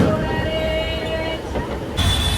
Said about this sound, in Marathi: मग आली ही ट्रेन, कल्याण ट्रेन.